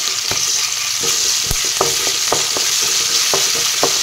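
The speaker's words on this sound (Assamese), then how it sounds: "পিঁয়াজখিনি এনেদৰে লৰাই দি দিছোঁ" Onions frying in hot oil with ginger, garlic and chili paste added, stirred by a spoon scraping the pan in irregular taps over a loud, steady sizzle, with no talking.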